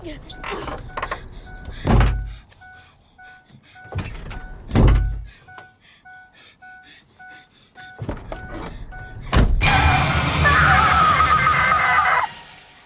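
A ghost slams against a car door in a Conjuring horror film: two heavy thunks with deep booms stand out, then a loud sustained rumbling, screeching burst at the end, with faint talk and tones in between.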